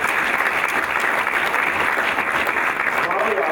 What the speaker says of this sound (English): So let's give our community a round of applause for that.